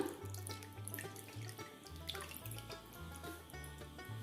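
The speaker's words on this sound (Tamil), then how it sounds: "இப்போ இந்த மீன் குழம்புக்கு தேவையான அளவு கொஞ்சமாக தண்ணியும் விட்டுக்கலாம்." Water runs steadily into a pot of Tamil fish curry (meen kuzhambu), a continuous close splashing pour with no talk.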